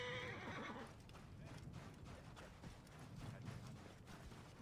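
Horse in the Assassin's Creed Origins video game whinnies loudly at the start, then hooves clip-clop steadily at a walking pace through the rest, fairly close and with no talking.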